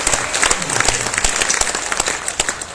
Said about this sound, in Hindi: तो मैं आपसे अपेक्षा करता हूं कि आप एक बार दोनों हाथ उठाकर तालियां बजा के मुझे आदेशित करें कि